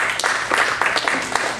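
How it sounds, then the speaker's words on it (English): A church congregation claps together in a dense, steady wash of hand claps with a few sharper accents, continuous and fairly loud throughout the short burst. "give God a hand clap"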